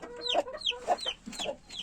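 Chickens clucking close by in a coop, in a quick, irregular series of calls, with short pauses between bursts.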